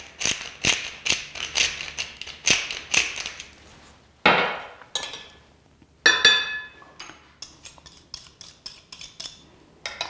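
Spoon stirring chili powder, paprika, salt, black pepper, lime juice and cottage cheese together in a bowl for a corn pasta salad, with a run of close, rhythmic clinks and scrapes, a sharp knock midway, then more brisk stirring.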